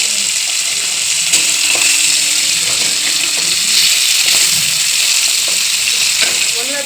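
Pieces of hilsa fish fry lightly in oil as they are turned over, giving a steady, fairly loud sizzle with faint clinks and some background voice.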